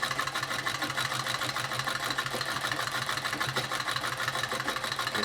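Antique Singer sewing machine from around 1880 stitching at a slow, even pace, a dense rapid mechanical clatter with a steady rhythmic thump, close and continuous with no talk.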